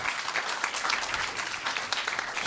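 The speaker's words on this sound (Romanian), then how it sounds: "Îți dăm aplauze între timp." A comedy club crowd applauds at a crowdwork stand-up show, with dense, even clapping that stays fairly soft and distant throughout the short stretch.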